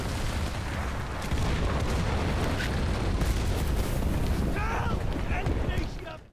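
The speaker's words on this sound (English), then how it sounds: "I sneak up on this enemy tank and place a TNT charge on it, and then return to the safety of the trench to blow it up" A TNT charge on an enemy tank explodes in the video game Enlisted, heard as a deep rumbling boom that fills the whole clip, with sustained roaring noise, faint distant crackles and a few quiet speech-like traces.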